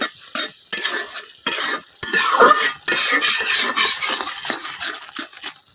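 Spice paste of chili powder and coriander powder stirred and frying in a pan for a village-style pangas fish bhuna, with steady scraping of a utensil and sizzling in close, repeated bursts.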